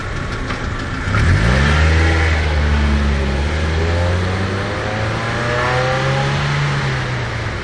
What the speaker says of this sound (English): If you don't raise the engine speed high enough and you pop the clutch, the car will lunge forward.